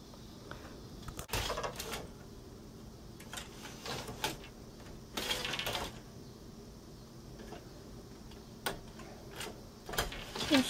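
Bergå Ullman countermarche weaving loom, with treadles and shafts knocking and clacking in irregular wooden thuds and taps spread over a quiet room.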